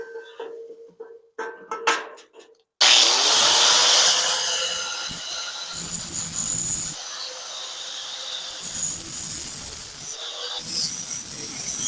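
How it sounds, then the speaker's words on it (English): After a few quiet clinks, a wet angle grinder bites into a welded exhaust manifold with a loud, harsh hissing grind that comes in several long passes separated by short pauses. "This grinder is hopefully not too wet to run."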